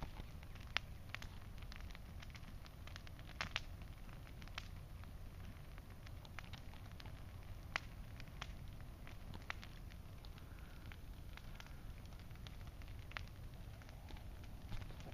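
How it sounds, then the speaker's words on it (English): A big bonfire burns in a backyard fire pit in Florida, giving a faint, steady roar scattered with sharp crackles and pops throughout, with no one talking. "Nice big old bonfire."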